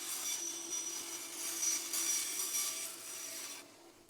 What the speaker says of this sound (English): I've got a fence set up on the bandsaw so I can't cut over into the batteries